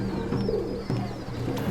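A pigeon coos softly nearby, a low burbling call repeated over a quiet background with faint chirps.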